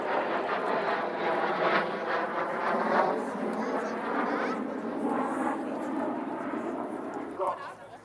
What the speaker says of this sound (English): The break of the 2024 Gazelle Squadron.